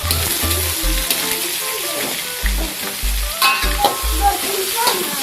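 Dried shrimp (udang kering) being stir fried with garlic in a home kitchen wok, the steady hot sizzle broken by a series of scraping, clattering stirs of the spatula against the pan.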